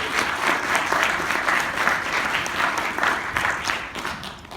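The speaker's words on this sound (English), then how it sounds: "so we can give a mandatory round of applause for him." A room of listeners gives a round of applause before a lecture, with a steady patter of many hands that swells slightly and then tapers toward the end of a few seconds.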